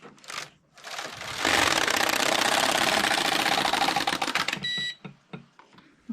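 A Passap E6000 knitting machine carriage runs across one row in a continuous mechanical clatter and whir lasting about three seconds, with a few clicks and knocks before and after.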